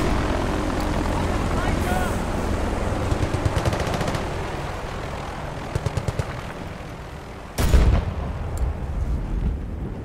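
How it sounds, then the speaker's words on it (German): An enemy helicopter lifts off in the video game Battlefield Bad Company 2, its steady rotor and engine drone filling the scene while bursts of gunfire crackle over it and a loud blast hits near the end. "Feindlicher Heli hebt ab!"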